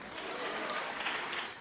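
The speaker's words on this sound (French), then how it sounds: "Applaudissements nourris du côté des écologistes" A short burst of hearty applause rings out in the French parliament chamber, a dense even patter of many hands at moderate loudness.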